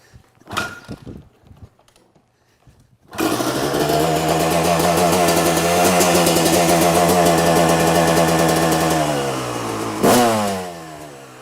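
A two-stroke dirt bike fresh from a top end rebuild kicks over a few times, then fires and idles loudly with a raspy, buzzing drone for several seconds before a sharp rev near the end.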